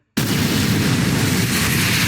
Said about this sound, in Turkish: Roket patladı